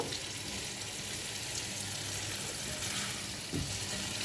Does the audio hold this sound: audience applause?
no